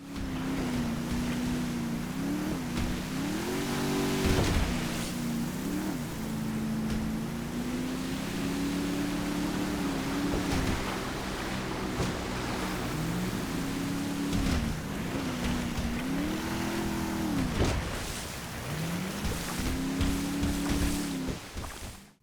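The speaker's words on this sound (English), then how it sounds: "Boats can drive up waterfalls" Boat engine from the GTA 5 video game, droning steadily as the boat climbs a waterfall, its pitch rising and falling, with rushing water and wind throughout.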